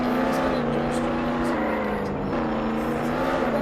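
A Lamborghini in a video game, its engine droning steadily and close with slight pitch shifts, as a voice talks over it.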